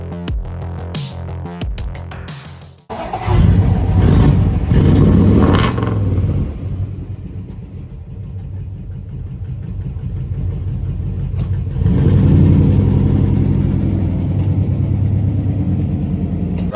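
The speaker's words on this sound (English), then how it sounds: "So this is the engine out of the Mustang." The engine pulled from a 1967 Mustang Fastback fires up after a few clunks, then runs with a steady, loud rumble and swells in a couple of revs before settling, heard close with no talking.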